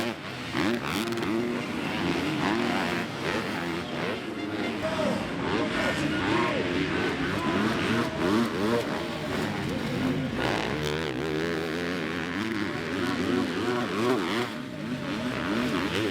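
Yamaha supercross motorcycles race at the SX Tour 2024 opening round in St Thibéry, France, their engines revving and roaring without a break across the track while a commentator talks over them.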